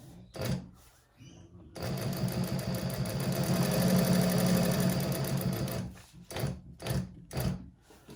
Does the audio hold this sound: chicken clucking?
no